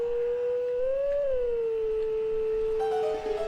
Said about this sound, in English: we gotta stand on the Triforce and hum and howl Zelda's lullaby